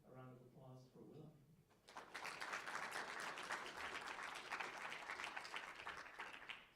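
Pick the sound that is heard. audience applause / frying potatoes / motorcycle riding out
audience applause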